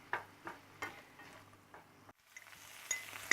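Already-cooked seitan is stirred through in a pan for a vegan Philly cheesesteak, with several soft scraping strokes and light clinks of the utensil over a faint sizzle, close and quiet.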